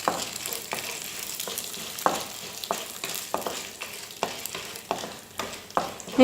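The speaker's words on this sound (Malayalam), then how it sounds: "നമ്മുടെ ചനാദാൽ നന്നായിട്ട് റോസ്റ്റ് ചെയ്ത് കിട്ടിക്കഴിഞ്ഞാൽ പിന്നെ നമ്മൾ അതിലേക്ക് നമ്മുടെ വറ്റൽമുളക് ചേർത്ത് കൊടുക്കുക." Chana dal dry-roasting in a pan with dry red chillies, heard as close, irregular scraping and rattling stirs over a light sizzle.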